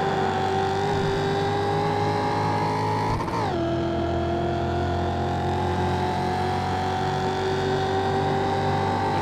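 Race car engines roar on the Daytona road course in a racing video game: a loud, steady high-pitched engine whine holds throughout, dips sharply once for a moment as if passing or shifting, and then resumes at a slightly lower pitch.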